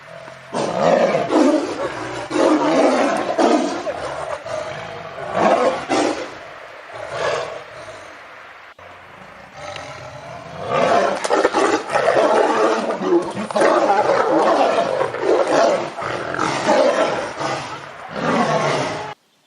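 Deep, powerful tiger roars rise and fall in two long bursts separated by a brief lull, loud and close with a rough, rumbling texture.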